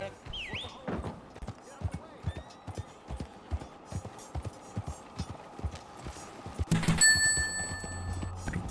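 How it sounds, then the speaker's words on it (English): A Sonic-style ring pickup chime in a video game, a bright metallic ding ringing out near the end over rhythmic horse hoofbeats clip-clopping throughout, with a short whistling sound near the start. "Old sonic ring sound."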